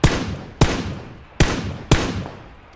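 Four heavy gunshots from an exchange of fire in the battle royale game PUBG (Battlegrounds), each a loud, sharp crack with a long fading tail, spaced unevenly about a second apart and heard alone.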